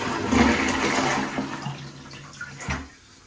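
A toilet in a cabin being winterized is flushed: a loud, close rush of water that churns for about two seconds, then gurgles and tapers into quiet.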